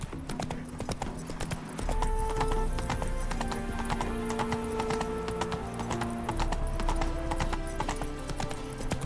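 Horse hooves clip-clopping at a steady rapid gallop in The Witcher 3, loud and continuous with a brief whinny, backed by game music.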